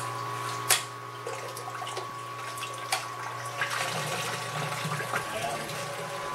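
Liquid recirculates out of a home brew system vessel, through a coil and back into itself, giving a steady, close rush and trickle of flowing water with a constant pump hum underneath and a few small knocks.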